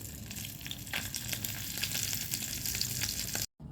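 Fish frying in hot oil, a dense, continuous sizzle with scattered pops and crackles, heard up close and alone before cutting out briefly at the very end.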